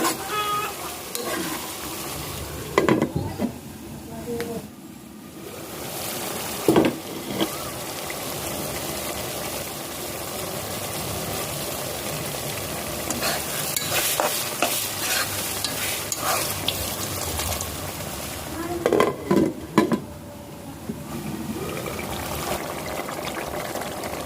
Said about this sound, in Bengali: আগে পেঁয়াজগুলা কষানোর সময় আমি আলু কষাই নিচ্ছি